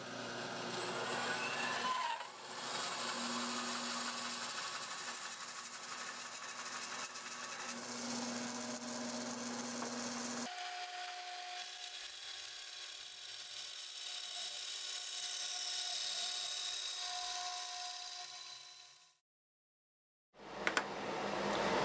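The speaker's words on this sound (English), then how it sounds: "We're going to just cut that right down the middle" A bandsaw slices a wooden bowl blank down the middle, a steady hissing, rasping cut with a constant motor hum that shifts in tone midway, then a brief pause and a short burst of sound at the very end.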